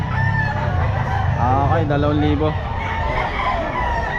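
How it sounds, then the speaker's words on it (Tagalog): A big rooster crows loudly at the Bocaue pet market in the Philippines, one full drawn-out crow rising over a busy, noisy crowd while someone talks nearby. "Ang laking manok."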